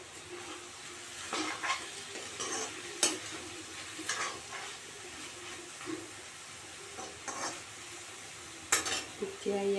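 Chicken cooking in a pot with the lid on, giving a steady low sizzle and bubbling under occasional clinks of utensils and pot, close and moderately loud.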